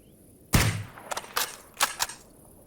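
Gunfire from a gun in the Escape From Pripyat video game: one sharp loud shot followed by four quicker, lighter reports in an uneven rhythm, close and clear against a quiet background.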